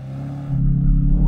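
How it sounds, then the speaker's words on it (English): Bentley Continental GT Convertible launching from a standstill after the engine is held at high revs on the brake, a loud steady engine note that deepens and swells as the car pulls away, with no talking. "Left foot on the brake, floor the throttle, hold the revs, and now I'm going to release the brake."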